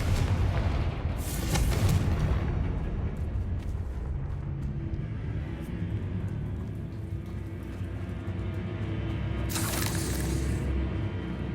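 Confringo fire spell explosions in Hogwarts Legacy burst twice, a loud crackling blast near the start and another near the end, separated by a low rumbling, hissing bed of fire and ambience.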